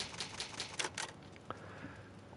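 Resident Evil's save typewriter clacks in a quick run of close, crisp keystrokes, followed by a faint ding and a quieter tail.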